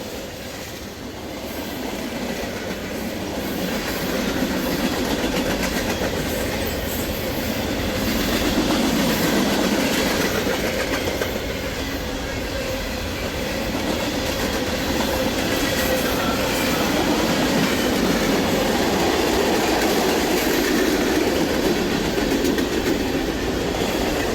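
Freight train 39N hauling vinyl chloride rolls steadily past, giving a continuous rumble with faint clickety-clack of wheels on the rails and occasional light wheel squeal, with no voices.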